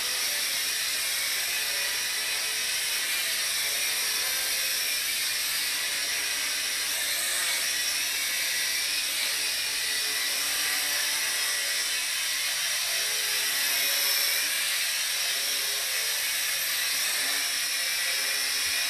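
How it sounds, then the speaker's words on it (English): A small Dromida Ominus quadcopter drone hovers and flies around indoors, its rotors giving a steady, loud, high-pitched whine that stays constant throughout with no speech. "that's the indoor flight of the Dromida Ominus"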